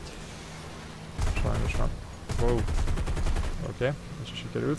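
The big cannon on an aircraft in War Thunder fires in rapid thumping bursts, two loud volleys in quick succession, while someone talks over them.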